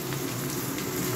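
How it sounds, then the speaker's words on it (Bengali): Potatoes fry in a pan with a dense, constant sizzling hiss, close and fairly loud for a brief moment. "একটু আলুটা ভেজে নিই।"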